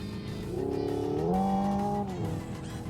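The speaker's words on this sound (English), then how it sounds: "It gives you fake gear ratios, it gives you a fake engine noise." Synthetic engine sound from a 2024 Hyundai Ioniq 5 N electric car, a droning tone that rises in pitch as if climbing through gears, then falls back, heard alone and fairly close.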